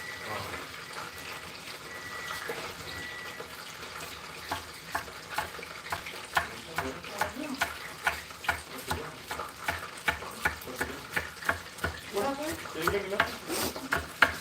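Chimichangas cooking in a pan, with continuous sizzling frying under steady stirring and a run of regular sharp clicks and taps from utensils against the pan, growing more rhythmic in the second half.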